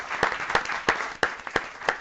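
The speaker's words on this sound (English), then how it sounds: "You can clap for that." Audience applause for a 90th birthday at a council meeting, heard as a short, moderate burst of clapping with a few sharper individual claps standing out.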